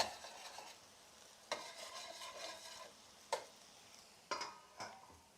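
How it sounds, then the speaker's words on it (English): A spoon stirs bouillon in a pan and scrapes the bottom, giving a soft sizzle broken by several sharp scraping strokes at irregular intervals, close by with no talk. "Scrape the bottom of the pan, all the flavors there. Mix the bouillon."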